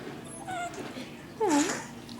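A dog whimpers indoors, giving two short high whines, the second louder and rising then falling, with faint room noise beneath.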